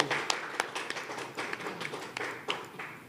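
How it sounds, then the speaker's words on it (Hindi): Scattered audience applause at an award show, sparse and uneven with separate distinct claps rather than a full ovation, fairly faint. "तालियां हो जाए उनके लिए।"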